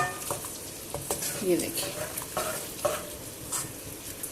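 Chopped onion softening in a karahi gives a steady broadband sizzle, with a spoon stirring and scraping in occasional short bursts, while someone speaks briefly over it.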